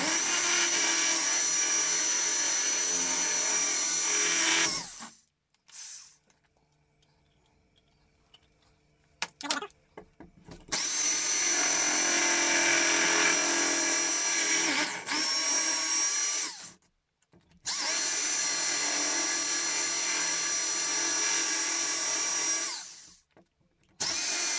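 Power tool cutting a channel into a wall for a socket box beneath a television mount, running loud and close in three long bursts separated by brief pauses with faint knocks.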